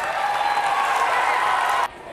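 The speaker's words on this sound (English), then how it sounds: "One more round of applause." Students and staff at an elementary school celebration give a round of applause, a dense, steady wash of many clapping hands that cuts off abruptly near the end.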